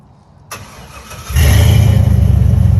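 A Chevy 6.0 truck with a Flowmaster Super 10 muffler, turn-down exhaust and no catalytic converters cranks briefly, then fires up into a loud, deep, rumbling idle close by.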